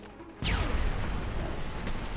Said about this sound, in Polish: ten epicki wybuch